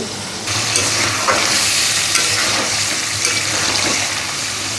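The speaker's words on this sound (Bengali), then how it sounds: "এইগুলো দিয়ে এখন মাংসটা রান্না করে নিচ্ছি" Chicken sizzles loudly and continuously in a hot pan, with scraping and stirring sounds, close up and without any talking.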